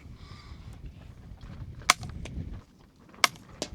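Two sharp, dry cracks from a suppressed .22 rifle firing Remington Standard Velocity rounds into dirt, about a second apart and close by, with small ticks between and low ambient rumble beneath.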